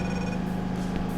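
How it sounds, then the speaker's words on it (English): A telephone rings in a workshop, a steady electronic tone holding evenly through the moment with no talk over it. "Phone going again."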